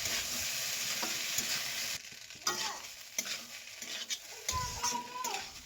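Fried rice with egg stirred in a hot pan, a steady sizzle broken by repeated scraping strokes of a spatula against the metal, close and fairly loud, with no talking.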